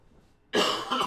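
A person recovering from COVID coughs once, a sudden harsh burst after a brief near-silence, close and loud, with no talking.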